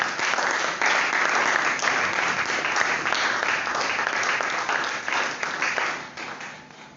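A church congregation at a French-language sermon breaks into loud, sustained applause that fills the room for several seconds, then fades toward the end.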